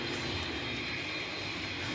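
Airbus A320 engines hum steadily at taxi power in a flight simulator, a continuous close jet whine with no pauses.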